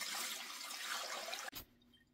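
Cabbage soup poured through a strainer gives a steady, close rush of liquid for about a second and a half, then cuts off abruptly, leaving a faint trickle and drip.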